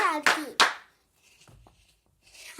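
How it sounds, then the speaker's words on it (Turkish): A few sharp hand claps ring out near the start, a quick burst of two or three strikes, followed by quieter rustling and faint background voices. "Alkışlıyorum seni"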